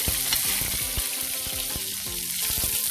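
Garlic, with onion and tomato to follow, sautéing in a hot pan, a dense crackling sizzle with scattered spatula scrapes and clinks, close and steady throughout with no talking.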